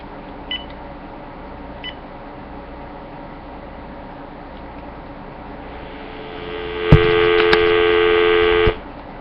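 A cheap landline phone bought at a yard sale gives a few faint beeps early on, then a loud steady dial tone cuts in near the end and holds for about two seconds before stopping, close and alone with no talking.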